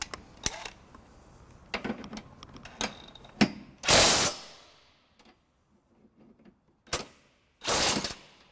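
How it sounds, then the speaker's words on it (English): A cordless drill with a 19mm socket snugging trailer hitch bolts on a 2013 Scion xB, heard as short bursts of whirring and ratcheting spaced between clicks and handling noises, fairly faint. "we'll just snug them up with the drill motor here"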